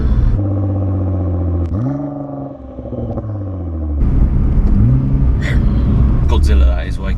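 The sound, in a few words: Nissan GT-R R35 engine revving with throttle blip on downshift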